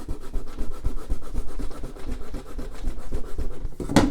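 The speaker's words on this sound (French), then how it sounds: "je gomme un petit peu, mais je vais pas non plus gommer comme un forcené" A pencil eraser rubs back and forth on watercolour paper in quick, uneven scrubbing strokes, close and moderately loud, ending with a brief sharper knock.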